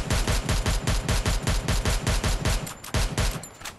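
Rapid automatic gunfire in the mobile shooter Free Fire: a fast, even string of loud, close shots in steady bursts lasting nearly four seconds, with a brief pause near the end, no talking.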